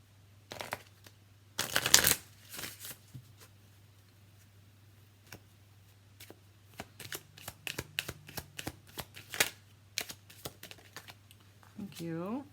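Tarot or angel oracle cards shuffled by hand, a burst of riffling followed by scattered soft taps and flicks of cards being handled and laid out, close and fairly quiet, with a low steady hum underneath.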